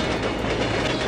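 A Mumbai local train rolls past Dharavi, a loud, close, continuous rumble with rhythmic clattering of wheels on rails.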